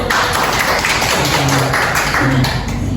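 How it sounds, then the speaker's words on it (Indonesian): Classroom applause during a micro-teaching lesson: many hands clapping in a dense, steady wash that stays loud and close for the whole stretch, with no pause. "Tepuk tangan dulu."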